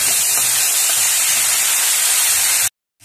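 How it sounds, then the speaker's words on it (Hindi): Tomato with green chili and ginger paste frying in a pan, a loud steady sizzling hiss filling the clip before cutting off abruptly near the end. "इस टमाटर के साथ हरी मिर्च का और अदरक का पेस्ट, आधा इंच अदरक का पेस्ट को हम अच्छी तरह से फ्राई कर लेंगे।"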